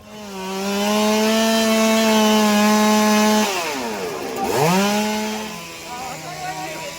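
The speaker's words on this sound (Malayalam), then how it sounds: "അഗ്നിരക്ഷാ സേന എത്തി മരം മുറിച്ചു മാറ്റി." A fire rescue crew runs a chainsaw to cut a fallen tree off a road during monsoon rain in Kerala. The loud, close engine whine holds steady, dips sharply, then revs back up before easing off.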